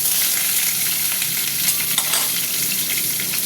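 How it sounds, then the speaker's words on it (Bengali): Potato pieces fry in hot oil in a kadai with a loud, dense, continuous sizzle that stays even throughout, close and with no talking. "আলু ভাজাটা হতে থাক"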